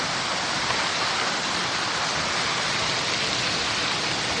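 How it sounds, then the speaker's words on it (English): A park waterfall pours with a dense, steady broadband roar, close and unbroken, with no voices over it. "And you could go to sleep to this, not my voice, but this waterfall."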